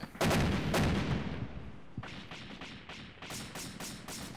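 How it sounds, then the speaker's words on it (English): Rockets and heavy weapons fire in a military video game, with a dense roaring barrage of blasts at first that thins into a string of sharp, separate bursts and thuds. "What the hell are those rockets?"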